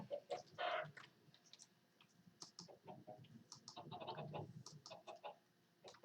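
A chicken in the video game Minecraft clucks in a few short, soft bursts, mixed with light clicking and typing-like taps at low volume.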